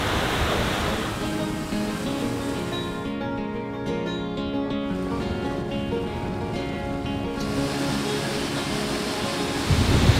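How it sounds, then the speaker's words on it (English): Waterfalls on the Isle of Skye in winter give a steady, broad rushing roar of falling water, continuous and fairly loud throughout with no voices. "There's just a bunch of waterfalls all the way up this."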